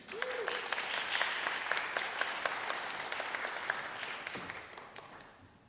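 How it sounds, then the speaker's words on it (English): An audience applauds at a sponsor launch event at the State Library of Victoria, steady clapping from many people with a few sharper nearby claps standing out, fading slightly toward the end. "Bandy, and a round of applause."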